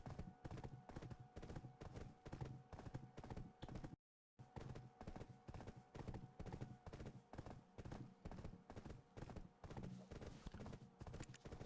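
Horse hooves clip-clopping in a steady, rapid rhythm in a video game, loud and close, with one brief dropout; someone talks over part of it, and no clear whinny stands out.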